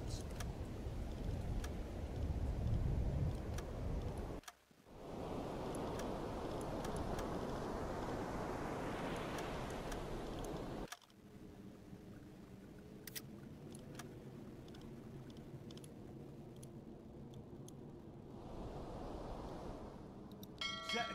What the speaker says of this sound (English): Switch to diesel engine.